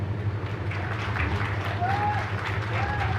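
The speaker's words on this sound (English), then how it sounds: "I would like to have a great applause from all the audience present over here" A large audience in a pandal at a Solapur event claps for the organizers, with a fairly faint spread of applause over a low hum and some murmured voices.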